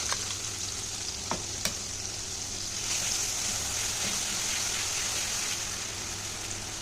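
Onion and tomato frying in a pan with ginger, garlic and green chilli paste, a steady close sizzle with scraping stirs and a couple of sharp utensil taps, swelling slightly midway.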